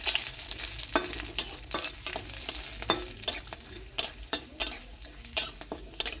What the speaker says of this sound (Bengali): কাজুগুলোকে একটু হালকা লাল লাল করে ভেজে নেব।